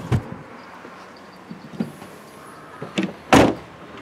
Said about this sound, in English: Open up the boot and we can see all of the available space on the inside.